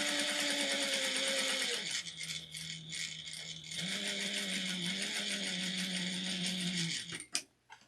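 A sewing machine runs close up, stitching a seam on a two-toned snack bag with back stitches, its steady rattling motor whir shifting pitch as the stitching reverses and then stops with a few clicks.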